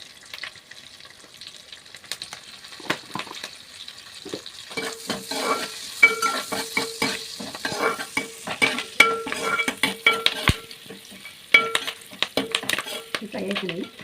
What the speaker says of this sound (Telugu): పచ్చివాసన పోయేంత వరకు వీటిని ఫ్రై చేసుకోవాలి.